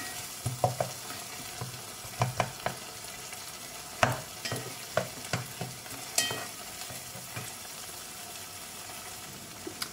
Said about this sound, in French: Je vais laisser le mélange un peu fondre, enfin cuire plutôt